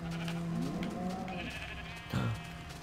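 Sheep in the Minecraft video game bleat around a wool-gathering player, a steady wavering bleat running through the stretch with a louder call near the end, no talk over it.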